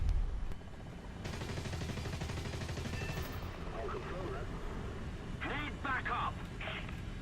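FJ-4B jet cannons fire in War Thunder: a rapid, rattling burst lasting about two seconds over a low engine drone, followed by voices talking over the steady background.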